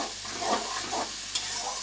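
Spice masala for a chicken curry with mankochu fries in a pan and is stirred, a close, steady sizzle with two or three soft scraping strokes of the spoon.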